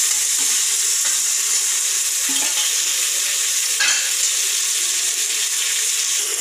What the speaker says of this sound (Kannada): ಈಗ ಒಗ್ಗರಣೆ ಹಾಕ್ತಾ ಇದೆ, ಅದಕ್ಕೆ ಟೊಮ್ಯಾಟೊ ಆ್ಯಡ್ ಮಾಡ್ಕೊಳ್ಳಿ